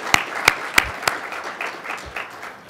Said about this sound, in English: please, will you help me give them a round of applause because I think they deserve it